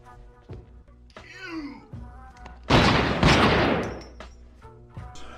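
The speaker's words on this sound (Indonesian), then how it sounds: "Saul dan si Vince berhasil lolos dan Tony menembak kembali si Boris." A film-scene gun battle from Snatch: after some voices and a whooshing effect, a loud dense burst of gunfire roars through the middle of the clip, then fades back into low scene noise and speech.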